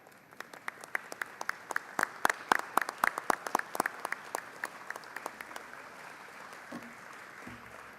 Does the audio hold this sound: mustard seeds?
no